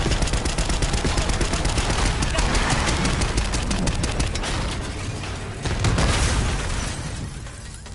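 Dense, continuous gunfire in the Black Ops 6 video game, with rapid overlapping shots and booms sustained for the whole stretch, loud and close, easing slightly near the end.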